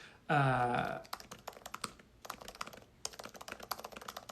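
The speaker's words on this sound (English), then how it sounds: "So typing that out." Fingers type on a computer keyboard in a quiet room, giving a run of soft, close key clicks in uneven bursts with short pauses between. A brief tonal sound comes just before the typing starts.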